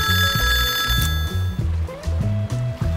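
A telephone rings with a shrill, trilling bell at the start, over a loud, rhythmic musical backing that carries on for the rest of the moment.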